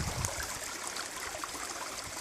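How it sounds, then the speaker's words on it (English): River water rushes steadily during a crossing, a dense broadband wash of flowing current that stays constant and fairly close, with no voices over it. "Crossing the river."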